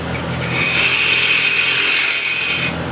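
A 1/2-inch spindle gouge cuts a square section of a walnut or cherry plate on a wood lathe, making a steady, close scraping hiss that swells briefly and then fades.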